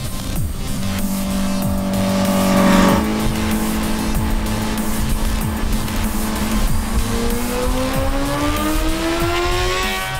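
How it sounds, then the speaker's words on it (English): A 2020 Honda CBR1000RR-R Fireblade SP revs hard on a race track, its engine note climbing steadily through the gears, loud and close, with a brief rise and drop in pitch partway through. "This bike needs revs, needs lots of space to do its thing."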